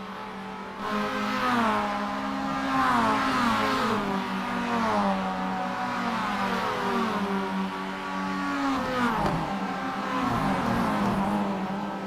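Racing cars in the video game Rumble Racing roar through the final lap, several engines droning and revving continuously with pitch sweeps as they accelerate and shift, loud and close throughout.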